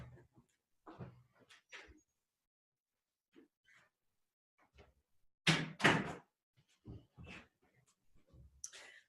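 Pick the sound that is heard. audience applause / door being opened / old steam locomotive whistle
door being opened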